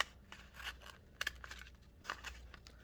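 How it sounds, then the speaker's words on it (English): Scissors snip through thin material for a gnome ornament, a few quiet, crisp cuts spaced irregularly with soft rustling between them. "Get my scissors in there."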